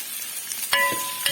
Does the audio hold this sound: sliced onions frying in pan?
yes